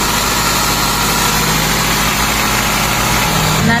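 A 9th-generation Toyota Corolla Altis engine idles loudly and steadily at close range, its noise raised by an open air filter, with a constant rumbling drone throughout.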